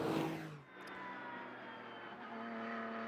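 A GT race car at Mugello blasts past under full acceleration toward the checkered flag, a loud close engine roar that sweeps by, then holds a steady high-revving drone into the distance.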